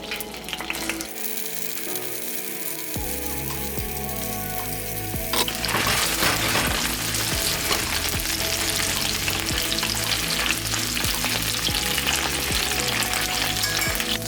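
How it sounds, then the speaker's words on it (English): Bánh bột chiên and Chinese sausage frying in a pan over medium heat, with a steady close sizzle that grows louder and denser partway through, over background music. "So now I'm gonna fry this on medium heat,"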